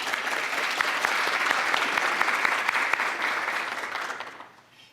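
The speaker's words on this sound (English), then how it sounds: "Round of applause." A crowd at a women's lifelong learning breakfast gives a steady round of applause, many hands clapping together for about four seconds before fading out quickly.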